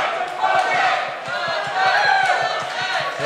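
Wrestling event crowd in a ballroom chanting and cheering with rhythmic stomping or clapping beats, loud and close, voices rising and falling in waves.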